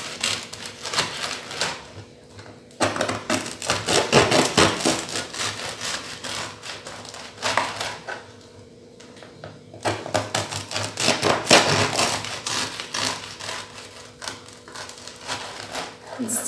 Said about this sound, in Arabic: دابا غادا ندوز باش نقطع الباكيط على هاد الشكل هذا